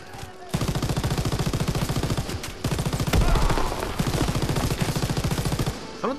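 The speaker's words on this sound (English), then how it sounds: "I don't think the MG ever shot like this" Sustained machine gun fire in the Call of Duty WWII campaign, a loud, rapid rhythmic burst stream running almost continuously with brief breaks, close and dominant without talk.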